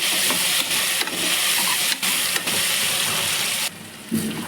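Vegetables and pumpkin sautéing for sambar rice in a pan, a steady close sizzle with several stirring scrapes and brief breaks, no voices.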